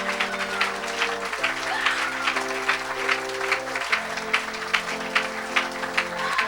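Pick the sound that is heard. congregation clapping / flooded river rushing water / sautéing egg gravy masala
congregation clapping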